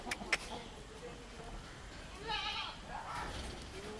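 Goats at a goat farm give a couple of faint, wavering bleats over low background noise.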